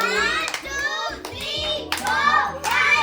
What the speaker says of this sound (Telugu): claps claps claps claps